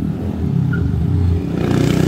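A 205cc Honda Fan 160 motorcycle engine revs roughly and unevenly, sputtering and misfiring, then its rumble grows louder and harsher toward the end on the street.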